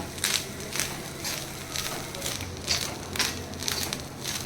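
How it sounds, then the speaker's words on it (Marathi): Freshly grated coconut roasting in a pan gives a continuous dry crackling and scraping rustle with repeated stirring strokes at a steady, moderate level, close up and without talk. "ओला खोबरा भाजून जरा वेळच लागता"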